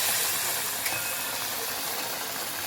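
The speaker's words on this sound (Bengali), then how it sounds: "এবার মচমচে করে ভাজবো।" Peda-shaped jaggery pitha fries in hot oil, giving a steady, even hiss of sizzling that holds without a break.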